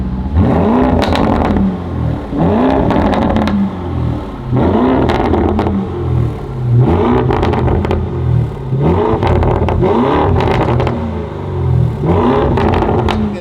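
A Lamborghini Urus twin-turbo V8 with an aftermarket exhaust revs loudly in about six rhythmic bursts, each rising then falling back to a rumbling idle.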